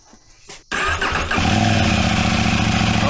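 A 2025 Husqvarna Svartpilen 801 motorcycle fitted with an Ixil slip-on exhaust cranks briefly, fires up with a loud bark and settles into a deep, throbbing idle close by.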